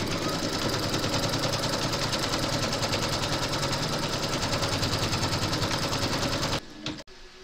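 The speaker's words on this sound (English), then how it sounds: "Load your file into your machine and then you're going to stitch round number one" An embroidery machine runs a continuous, loud, fast stitching placement outline for a gingerbread house design, stopping near the end with a few clunks.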